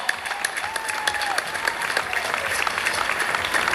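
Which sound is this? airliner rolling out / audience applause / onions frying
audience applause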